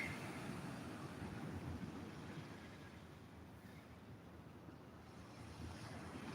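Surf washing onto South Beach, a steady broad roar of breaking waves with gusting wind buffeting the microphone throughout, continuous and fairly loud with no talk.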